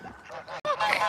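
Geese honking on a farm during evening chores, a quick pair of loud, close, nasal honks.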